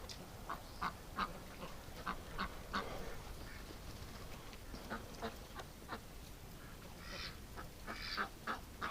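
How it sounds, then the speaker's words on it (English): Geese honk repeatedly in an outdoor farm flock on a cold winter evening, sharp calls coming in scattered bursts at moderate distance over a steady background hiss, with no talking. "I don't like the looks of that one goose."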